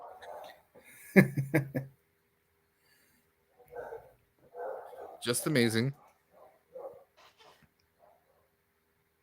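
A dog barks in a few sharp bursts, close and loud, between stretches of a person talking.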